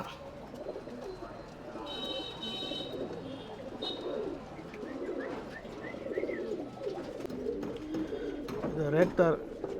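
Tumbler pigeons coo softly in a loft, low repeated cooing under a man's speech, with some chirps and wing rustles nearby.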